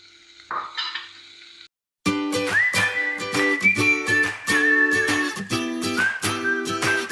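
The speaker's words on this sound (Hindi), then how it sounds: "सेकंड स्टेप में हम अनियंस और शिमला मिर्च इन दोनों को अच्छे से सौते कर लेंगे।" Onions and capsicum sautéed in a pan, with scraping stirs and light sizzling close up, accompanied by a loud pressure-cooker-like whistle and clattering utensil strikes in a rhythmic pattern.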